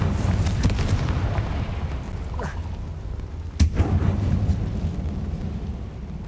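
In the Hogwarts Legacy video game, a Confringo blasting spell goes off as a sharp explosive burst over a low, constant rumble of game sound, with a smaller earlier blast and no voices.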